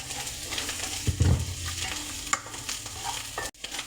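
Coriander leaves sauté in a hot pan with a steady close sizzle, a couple of louder stirring scrapes near the middle and a brief clack toward the end.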